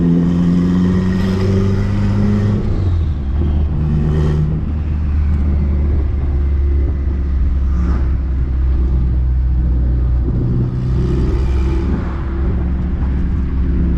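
A turbocharged Integra B20 engine, prepped for drag racing, rumbles loud and steady with low harmonic tones that rise and fall as it revs, continuous throughout without speech.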